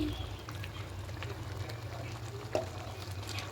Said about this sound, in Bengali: এবার একটু ভালো করে ফুটিয়ে নেব ডালটা